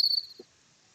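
Cricket chirping as a comedic gag: a bright, high, steady trill rings out briefly at the start, then fades quickly, leaving near silence with a faint low blip.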